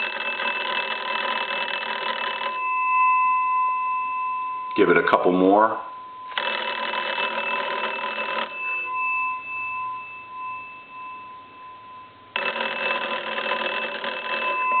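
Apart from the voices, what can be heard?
old wooden wall telephone bell ringing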